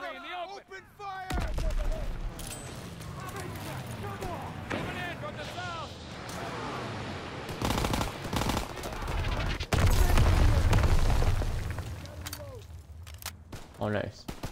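Gunfire in Call of Duty: WW2 during a push toward Paris, bursts of rifle and machine-gun fire with heavy booms mixed under shouted voices and battle noise, loud and dense.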